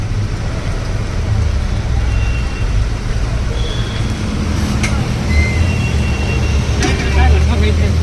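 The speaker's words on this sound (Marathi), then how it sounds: "बस इथंच आहे बस चालू आहे डिझेल चालू आहे" A parked city bus in Pune's Pimpri Chinchwad idles with its diesel engine left running, a steady low rumble that stays loud and constant, with roadway traffic around it and someone talking over it.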